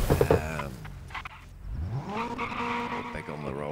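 Rally car engine in a racing video game, revving and skidding with tire noise, loud and close, with a voice talking over part of it.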